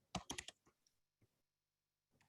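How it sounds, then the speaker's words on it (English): A few quick bursts of keystrokes on a computer keyboard, close and quiet, followed by scattered single taps and a short pause during a council meeting. "while you're typing"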